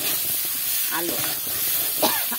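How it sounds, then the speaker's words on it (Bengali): Chopped teasle gourd and potato are stirred with spices in a hot pan, making a continuous close sizzle with scraping strokes; a voice is briefly audible underneath. "কেটে রাখা সবজিগুলো দিয়ে একটু ভালো করে মশলার সাথে এইভাবে নাড়িয়ে নিতে হবে।"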